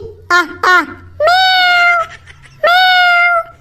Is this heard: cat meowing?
yes